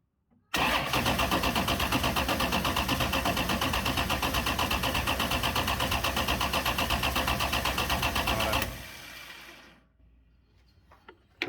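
A 598 cubic inch big block Ford XA sedan engine fires up and runs at a loud, steady, throbbing idle for about eight seconds, then cuts off abruptly, leaving faint background noise.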